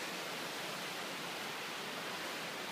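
A steady, broadband rush of falling water from the Bridal Veil waterfall near Provo roars continuously, dense and even throughout with no pauses.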